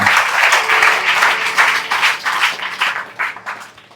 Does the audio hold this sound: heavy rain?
no